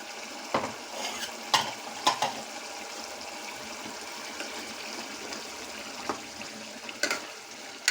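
Ginger-garlic paste fries in a pan for chicken curry, producing a steady soft sizzle with occasional sharp spoon scrapes and knocks as it is stirred, close and moderately quiet.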